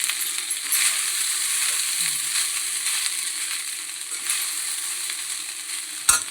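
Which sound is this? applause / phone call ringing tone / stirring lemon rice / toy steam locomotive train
stirring lemon rice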